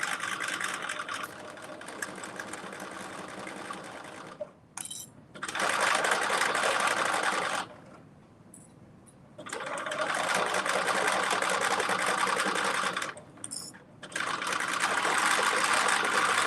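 A sewing machine stitches in loud, steady runs, stopping and starting three times with brief quiet pauses and small clicks between bursts.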